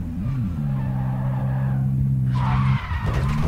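A car in the video game Call of Duty Warzone drives with a steady engine drone, then its tires skid and squeal sharply near the end, loud and close with no talk over it.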